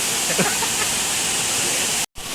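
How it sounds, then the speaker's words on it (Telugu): Steady, loud broadband roar of Elephant Falls in Shillong, Meghalaya fills the whole clip, broken by a split-second dropout near the end. "ఇదే ఎలిఫెంట్ వాటర్ ఫాల్స్ షిల్లాంగ్లోని"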